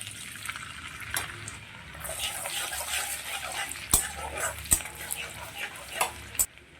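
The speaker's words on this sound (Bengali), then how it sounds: "আদা আর রসুনটা একটু নেড়ে চেড়ে নিয়ে আমি দিয়ে দেবো" Garlic and ginger sizzle in hot oil over a medium flame while being stirred in a pan for chilli chicken, a steady frying hiss broken by several sharp utensil scrapes and clicks against the pan.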